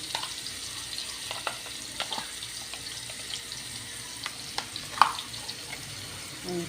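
Ground meat sautés in a frying pan, a faint steady sizzle with occasional light clinks of stirring.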